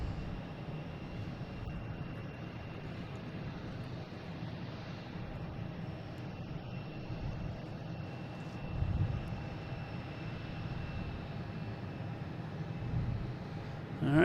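A Delta airliner takes off at Boston Logan International Airport, its engines giving a steady, fairly distant roar that swells slightly toward the end, with no talk over it.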